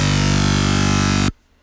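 A synth bass played in the second octave holds one loud, sustained, buzzy low note that stops abruptly, leaving near silence.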